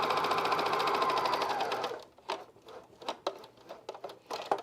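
A sewing machine with poorly set tension runs steadily through fleece pullover fabric for about two seconds, then stops, leaving scattered handling clicks and taps.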